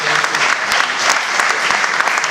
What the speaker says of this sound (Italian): E questo penso meriti un applauso